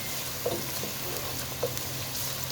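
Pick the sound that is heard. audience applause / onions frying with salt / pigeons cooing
onions frying with salt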